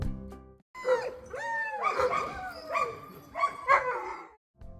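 Sled dogs at a Denali kennel bark and howl in a chorus of overlapping yelps and rising wails, fairly faint and set back at a distance, with no talk.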